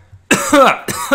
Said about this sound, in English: all this maniacal laughter's got me coughing